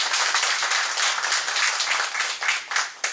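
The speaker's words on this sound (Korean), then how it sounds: "정말 감사의 뜨거운 박수 부탁드리겠습니다." Dense, steady applause from a large audience at a neighborhood redevelopment meeting, sustained and fairly loud for the whole stretch with no talk over it.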